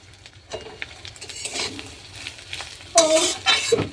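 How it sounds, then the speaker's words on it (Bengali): Prawns frying in a little oil in a home kitchen, with a steady sizzle, intermittent stirring scrapes and a couple of louder bursts of spatter near the end. "চিংড়ি মাছগুলো ভেজে নিই।"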